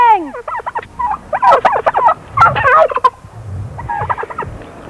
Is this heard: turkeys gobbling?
yes